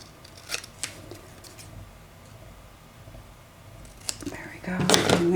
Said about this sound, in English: I'm gonna cut this like so.